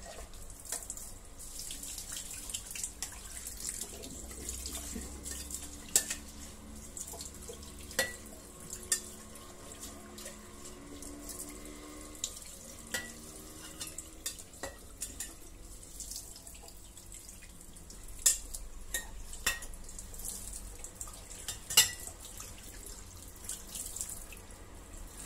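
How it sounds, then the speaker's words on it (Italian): Tap water runs steadily into a sink as quinoa is rinsed under it, a continuous close splashing stream with small drips and knocks, no talking. "E adesso vado a lavare la quinoa."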